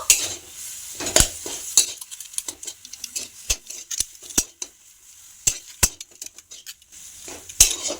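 Spiced potato filling with a little sugar and garam masala is mixed in a pan for pointed-gourd chops, with sharp spatula knocks and metallic scrapes over a faint sizzle.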